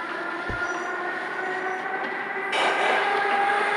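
An Armenian metro train rolls over track switches with a continuous loud rumble and hum. A heavy thump comes near the start, and a harsher, brighter wheel noise surges in partway through.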